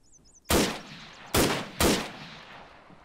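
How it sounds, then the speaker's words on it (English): Three sharp, loud gunshots ring out in the Arma 3 DayZ Breaking Point video game, the first alone and the next two close together, each with a short echoing decay and no talk over them. "That fucking guy just shot at me."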